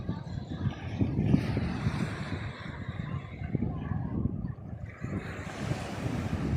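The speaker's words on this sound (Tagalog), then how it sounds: "Ang hangin naman eh." Strong seaside wind buffets the microphone in uneven gusts over the continuous wash of surf and waves, a rough, rumbling roar that rises and falls throughout.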